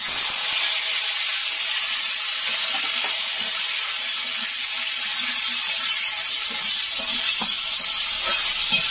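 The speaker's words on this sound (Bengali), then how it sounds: "টমেটো, কাটা টমেটো গুলো এখন আমি এই তেলের উপরে দিয়ে দেবো।" Chopped tomatoes tipped into hot oil in a pan with cashews and raisins, giving a loud, steady hiss and sizzle that runs unbroken throughout with no voices.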